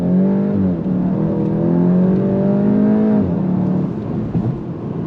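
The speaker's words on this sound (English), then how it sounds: "we got to go on throttle from a dead stop." A 2025 Volkswagen Golf GTI SE Mk 8.5, front-wheel drive, accelerates hard from a standstill, its engine note rising steadily through the revs, dipping briefly at a shift, then climbing again, heard loud from inside the cabin.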